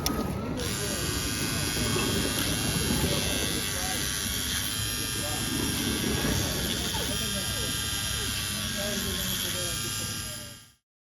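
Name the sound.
truing a Carrera 1/32 slot car tire with fine grit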